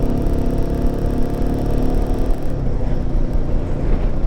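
A Royal Enfield Himalayan 450 motorcycle engine drones steadily during a ride, a loud, close, continuous rumble that dips slightly in tone partway through as the gears change.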